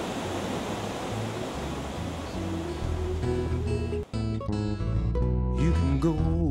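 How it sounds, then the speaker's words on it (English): Stockbridge Falls pours as a steady broadband rush of water, with music rising over it partway through. "Stockbridge Falls Road takes us over the postcard-perfect Stockbridge Falls."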